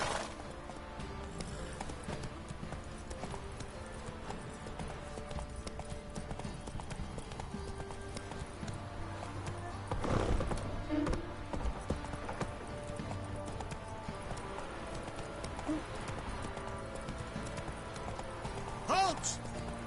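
Horse hooves trotting in The Witcher 3, a faint even clopping rhythm under game ambience, with a brief louder patch near ten seconds and some talk in the background.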